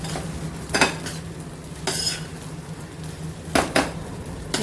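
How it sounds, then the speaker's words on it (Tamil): A spoon stirs turmeric powder and salt into food cooking in a pot, giving a few distinct scraping clinks against the metal over a low steady sizzle. "மஞ்சள் தூள் போட்டுட்டு கலக்கி விட்டுட்டு"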